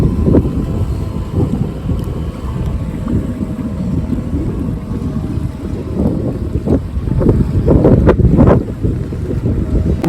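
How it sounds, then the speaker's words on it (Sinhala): A motorized fishing boat moves on Kinniya lagoon, its low engine rumble blending with steady wind buffeting the microphone and some water noise, fairly loud and continuous. "දීවර ඔරුවක් තමයි යන්නේ, මෝටරයක් හයි කරපු ඔරුවක්"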